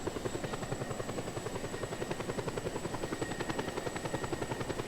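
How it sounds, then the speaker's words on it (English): A helicopter in the video game Just Cause 2 flies steadily, its rotor thumping in a fast, even pulse over a constant engine whine, loud and close with no talk. "This helicopter might be a little faster."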